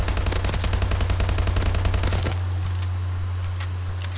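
STG 44 assault rifle fired in a video game, a loud rapid burst of automatic shots for about two seconds, then the gunfire stops and quieter game sounds continue.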